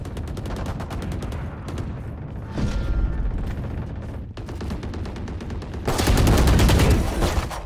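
Pistol gunfire in a shooter video game, shots cracking off in rapid bursts with dense overlapping reports and a louder flurry near the end, steady game noise throughout.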